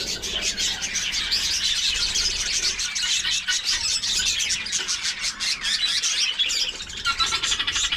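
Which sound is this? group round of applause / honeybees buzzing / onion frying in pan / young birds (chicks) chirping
young birds (chicks) chirping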